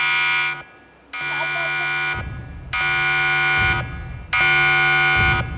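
A loud buzzing alarm in a story video game blares in long repeated blasts, four steady tones separated by short gaps, with speech faintly underneath.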